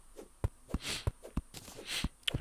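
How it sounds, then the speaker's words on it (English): Terraria game sounds as a slime kills a bunny: a series of short, punchy thumps and squishy hits repeating roughly every half second, with soft noisy swells between them and no speech. "I think that is the sound of slime killing bunny."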